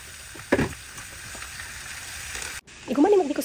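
Garlic and onion dropping into hot oil in a home kitchen, giving a sharp hiss at first that settles into steady frying. The sizzle swells again near the end, with a voice speaking over it.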